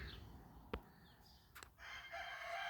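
A rooster crows outdoors, faint and distant, in an otherwise quiet open-air setting with a few soft background sounds.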